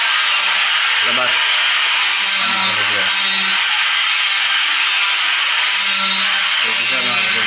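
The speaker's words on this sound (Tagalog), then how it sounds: "Grinder." A grinder works along plastered wall corners with a loud, continuous, harsh abrasive roar, close by and steady throughout, while brief voices murmur faintly underneath.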